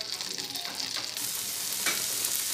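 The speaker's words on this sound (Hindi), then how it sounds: "इसे हम दो मिनट के लिए शेलो फ्राई करेंगे" Cubed vegetables shallow-fry in a buttered pan for a paneer dish, a close, steady sizzle with brief stirring scrapes and bubbling, no voices.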